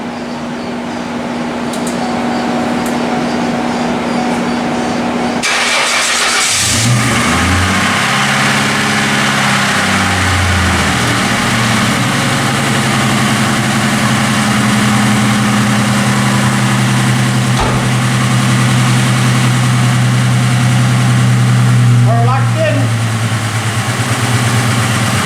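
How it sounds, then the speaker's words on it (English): A 1995 Mustang engine cranks and catches after a few seconds, then idles with a raised, slightly uneven hum that gradually settles lower; the running engine is close and loud throughout. "You hear how the second I started it, that idle was raised, and now it's went back down?"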